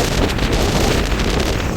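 Strong storm wind on the coast near Sangupiddy bridge blasts loudly and steadily into the microphone, a dense, continuous roar that may carry surf from flooded shoreline beneath it.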